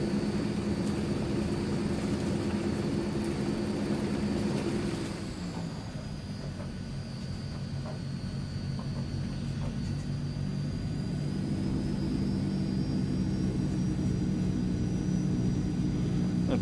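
Turboprop engines of a Transall C160 cargo plane rolling for takeoff in Microsoft Flight Simulator, a steady droning whine that dips midway, then builds again as the engines spool back up, loud and continuous.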